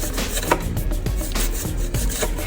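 A knife chops through an onion on a board, straight-down cuts making a run of crisp, close, fairly steady chopping taps with scraping rubs between them, and no voice over them.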